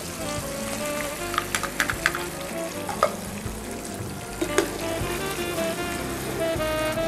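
Spices spluttering in hot oil for tempering: a steady close sizzle broken by sharp crackling pops, some bursts louder than others, with no voices.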